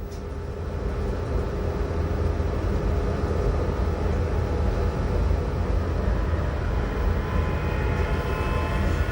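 The Glacier Express runs through a long Swiss tunnel, filling the space with a continuous, loud, enclosed rumble and roar of wheels and carriages that stays level throughout.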